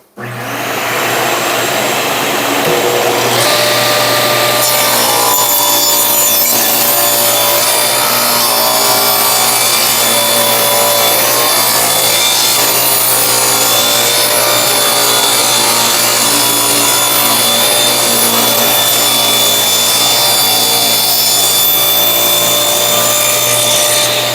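Power saw ripping through a wood board to make an edge-jointing cut, a loud continuous whining roar that holds steady for over twenty seconds, close up with no talking.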